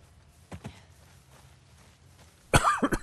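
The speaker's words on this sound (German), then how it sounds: "Ich habe ja noch einen leichten Husten." A man with a slight cough gives a faint throat sound, then a loud, close burst of three or four rapid coughs at the end, alone without talk.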